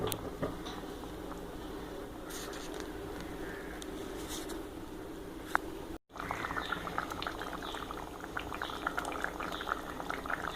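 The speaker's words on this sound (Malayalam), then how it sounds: "നല്ലോണം തിളച്ചിട്ടുണ്ട്." Tuna fish curry with roasted coconut paste bubbling steadily in a pot, a continuous close, moderately loud boil with occasional pops and a brief dropout midway.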